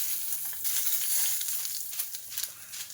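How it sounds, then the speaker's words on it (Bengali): Cumin seeds and dried red chilies crackle and hiss as they hit hot oil in a pan, a close, loud sizzle that swells and flickers for a few seconds. "এবার এর ভেতরে দেবো হচ্ছে জিরে, শুকনো লঙ্কা আর গোটা জিরে ফোড়ন দেবো"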